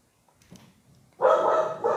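A pet dog barks close and fairly loud in a home, one sustained bark or yelp after a quiet stretch with faint background noise, and no talk over it.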